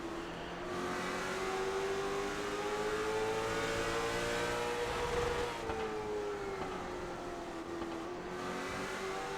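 Race car engines revving during a Late Model Stock race at The Bullring, a loud sustained whine that rises and falls in pitch as the cars run close together, continuous and near, without voices.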